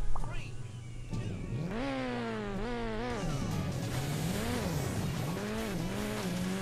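The bus in Hill Climb Racing 2 drives on, its engine whining and rising and falling in pitch as it revs through gears, steady and fairly loud, with a clunk near the start.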